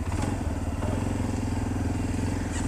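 A quad bike (ATV) engine runs close by with a loud, steady, rough putter and a strong low rumble, and no talk is heard over it.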